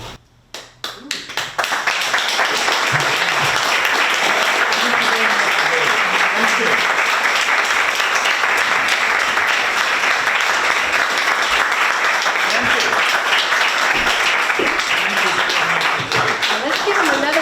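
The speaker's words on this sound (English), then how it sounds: "Let's give him another round of applause" Sustained audience applause fills a poetry reading at a 25th-anniversary event, a dense, steady clapping that builds quickly after a brief start and holds loud and even throughout.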